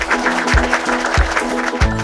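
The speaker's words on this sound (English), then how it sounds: "Let's clap for ourselves." A few children clap for themselves at the end of a kids' alphabet lesson, brisk irregular claps close by over a light musical backing, with no talking.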